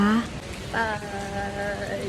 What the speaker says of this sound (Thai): แล้วฝนก็ยังคงตกอย่างต่อเนื่องนะ